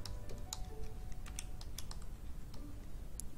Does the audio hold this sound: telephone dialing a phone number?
no